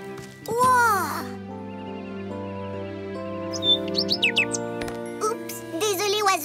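Cartoon bird chirps and tweets come in quick, bright bursts, mixed with short playful vocal sounds and a jingly music bed, fairly close and lively.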